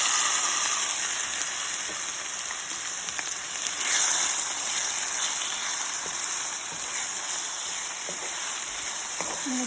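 Onion sautéing in hot oil in a pan: a steady, close sizzling hiss with faint crackles that holds evenly throughout, with no voices.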